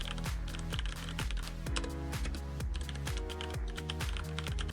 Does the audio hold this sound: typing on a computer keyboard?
yes